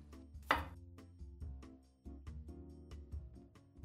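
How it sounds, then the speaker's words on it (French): Knife cutting small potatoes in half on a board, a series of sharp close chops and thuds at irregular intervals, one especially loud strike near the start, over faint background hum. "donc je les coupe simplement en deux."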